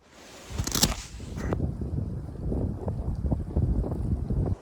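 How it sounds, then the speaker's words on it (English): Breezy wind outdoors on the shore of a swamp pond, a steady rumbling gust buffeting the microphone, louder in a burst early on and then holding at an even, close roar. "As you can tell, it's a bit breezy right now"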